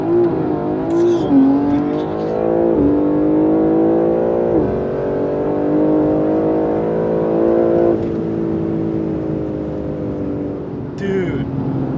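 A Porsche GT3 RS launches down a drag strip, its engine climbing hard through about four rapid upshifts, each rising howl cut short by a brief dip, loud and close from inside the car.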